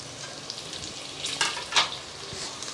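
Long-cut slices of a large onion and three green chillies frying in a pan for ghee rice, a steady close sizzle with a few brief louder bursts as the pan is stirred, and no voices.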